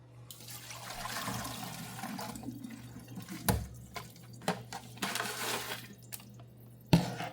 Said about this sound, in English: I'm about to wash them off and drain them.